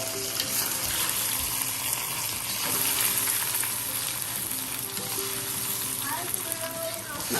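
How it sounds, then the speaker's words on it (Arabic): Rice sizzling as it is stirred and coated in hot oil in a single pot for Egyptian koshari, a steady close frying crackle with scraping stir sounds and some watery hiss throughout. "هنحط بقى الرز ونغلفهم برده بالزيت"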